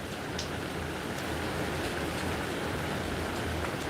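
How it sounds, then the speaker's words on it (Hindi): Heavy rain pours down in a steady, dense hiss that does not let up, with no voices heard. "बारिश हमारे यहाँ बहुत पड़ रही है।"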